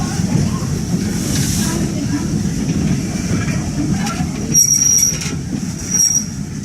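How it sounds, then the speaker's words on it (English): Wanamaker, Kempton & Southern train rolling into the Wanamaker depot, steady rumble of wheels on rail with high metallic squeals rising near the end, fairly close and continuous. "After a short reverse move, the train arrives at the Wanamaker Railroad Depot"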